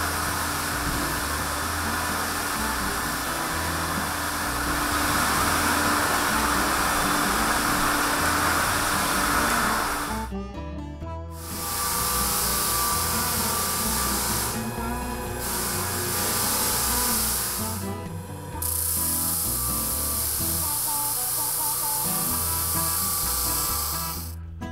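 A floor sander grinds across a wood floor with a loud, continuous rough whir and hiss, pausing a few times before starting again, with no voices.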